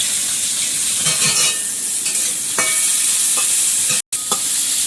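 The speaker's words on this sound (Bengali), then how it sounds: "তাই বসিয়ে তেল দিলাম একটু কালো জিরে রসুন কুচি" Black cumin seeds and chopped garlic frying in hot oil in a village kitchen, a steady close sizzle with a few soft stirring scrapes and brief utensil clinks, with no talking.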